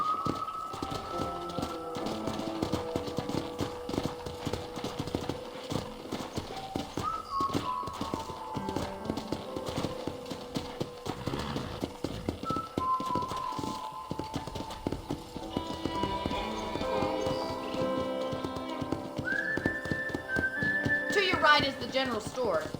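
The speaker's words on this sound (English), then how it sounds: "let's see if you can still ride a horse" Horse hooves clip-clop steadily while riding on a ranch in Red Dead Redemption, a continuous rhythmic trot under game music and a voice talking.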